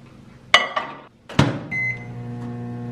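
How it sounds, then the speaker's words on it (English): A microwave oven heating a mug cake: a door clunk, button beeps and a second thump, then a steady low electrical hum starts and runs on close by, with no voices. "That is going in the microwave for 60 seconds."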